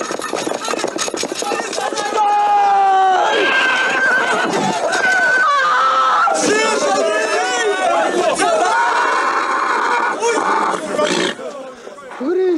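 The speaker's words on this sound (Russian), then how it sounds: "Берегись! Кони понесли!" Bolting horses whinny loudly in a chaotic, dense movie scene, with shouting voices and clattering movement mixed throughout.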